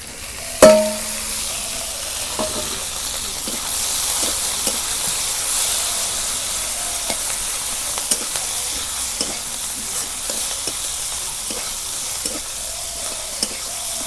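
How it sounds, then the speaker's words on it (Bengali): Chopped onion and green chillies fry in hot oil, a loud even sizzle and hiss lasting throughout, opening with a sharp clank and dotted with light stirring taps, close and without any talk. "তেলের মধ্যে কাঁচামরিচ আর পেঁয়াজ ভাইজে নিতেছি"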